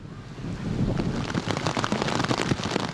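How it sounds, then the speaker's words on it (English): Heavy rain pours down in Kowloon Tong, Hong Kong, a dense, steady hiss with a low rumble underneath, continuous and fairly loud, with no talking. "In Kowloon Tong, rain was heavy"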